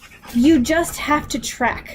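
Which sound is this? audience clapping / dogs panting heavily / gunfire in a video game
dogs panting heavily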